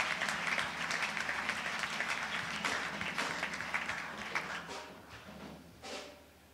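A church congregation applauding during a morning service, dense sustained clapping from many hands that gradually thins and fades toward the end, with a voice briefly rising over it.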